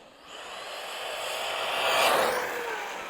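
A Vorza S RC car speeds along a street, its high-pitched electric whine rising and swelling as it races past close by, then easing slightly as it moves away.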